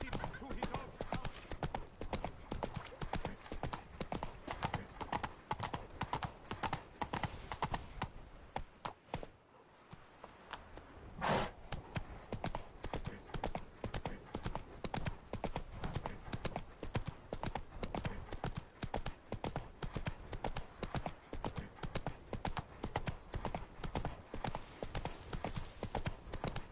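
Rhythmic clip-clop of a horse's hooves at a steady gait in The Witcher 3, close and continuous, with a short dip in the middle before the pounding resumes; game voices occasionally sound underneath.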